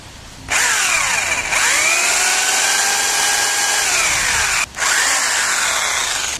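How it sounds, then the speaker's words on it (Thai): An electric drill spins a steel wire brush inside an engine cylinder head to clean it, a loud, continuous whine whose pitch sags under load, briefly stops near the start and again shortly before the end, then resumes. "แล้วใช้สว่านปั่นลงไป"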